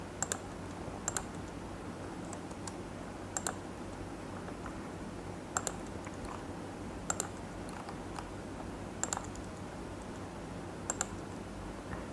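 Typing on a computer keyboard: sparse, irregular keystroke clicks, some in quick pairs, spaced over a low steady room hum with no talking.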